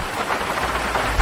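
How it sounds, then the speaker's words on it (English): Rain drumming on the roof of an old car in GTA 5, a steady broadband patter of drops, fairly loud and close, continuous with a slight swell near the end. "If you're driving an old car in the rain, you will hear the drops hitting the roof."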